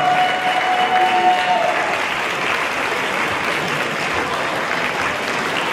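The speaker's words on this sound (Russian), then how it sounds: "Ваши громкие аплодисменты" A dance festival crowd in Moscow applauds the dancers with loud, continuous clapping that holds steady, a faint whistle or tone briefly riding over it early on.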